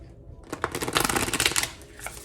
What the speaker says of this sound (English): I'm gonna shuffle this.